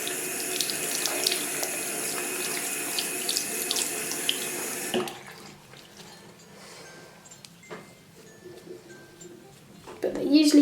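Tap water runs loudly into a sink while makeup brushes are rinsed and swirled beneath it, then the flow cuts off halfway, leaving quieter drips and handling before water starts again at the end.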